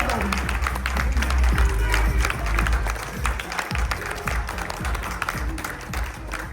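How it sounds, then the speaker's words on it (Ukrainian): A conference audience applauds at a managers' summit, dense steady clapping from many hands that swells and then thins over several seconds, with some talk mixed in. "Аплодисменти"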